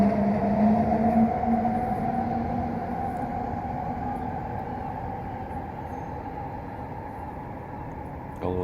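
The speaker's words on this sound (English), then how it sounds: "I'm definitely not patient when there's trains going by every 10 seconds." A train rumbles past close by, a steady heavy roar with a droning tone that slowly fades over several seconds, no voices.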